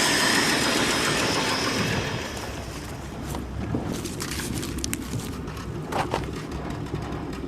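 A Falcon car engine runs after start-up, idling with a steady low rumble, slightly uneven and close, with a few light knocks and clatters over it and no talking.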